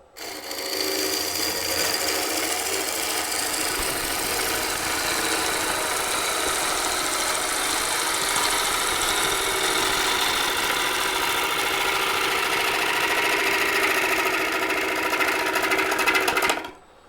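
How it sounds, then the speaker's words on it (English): A wood lathe spins an ebony mulberry bowl while a bowl gouge cuts it, giving a continuous, loud, steady whirring drone with broadband scraping hiss throughout before stopping at the end. "I can speed up the lathe now and get a little bit faster or smoother churn because I can go faster"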